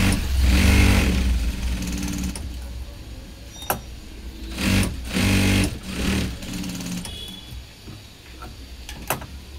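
A sewing machine stitching tucks on the back piece of a size 38 blouse, a steady close whirring hum with a few short louder bursts and clicks, and faint talk underneath.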